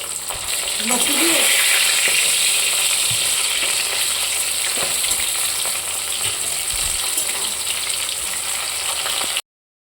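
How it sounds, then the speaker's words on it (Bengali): Hilsa fish pieces sizzle and fry in hot oil in a pan, with steady broadband crackle throughout and occasional stirring clatter, loud and close with no talking. "এটা ভালো করে ভেজে নেবো"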